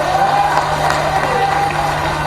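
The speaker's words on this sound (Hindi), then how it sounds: "अरे तालियां तो जोर से तालियां" An audience applauds at a public speech in Indore, Madhya Pradesh: dense, steady clapping with faint cheering that holds at an even, fairly loud level throughout, with no clear break.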